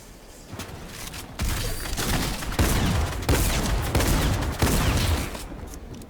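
Fortnite gunfire during a DreamHack Duos tournament match, with repeated bursts of loud shots and thuds arriving in uneven clusters over several seconds, close and dense, with no talk over it.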